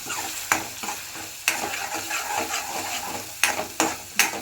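Cowpea vegetable with mustard seeds and spices stir-fried in a pan, sizzling steadily while a spatula scrapes and knocks against the pan in several sharp, irregular strokes.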